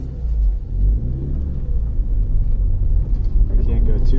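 A 2005 Saturn Ion with a 2.2-litre engine and 5-speed gearbox drives around the block, a steady low engine and road rumble close by, with people talking faintly over it.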